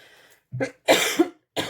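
Three sharp coughs, close and fairly loud, spaced by short pauses, with a faint rustle at the start.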